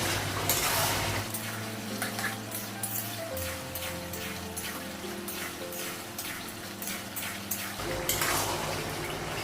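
Fish frying in a pan as it is stirred to brown in oil in a Bengali home kitchen, with steady sizzling and occasional scraping of the utensil, fairly close, and no talking.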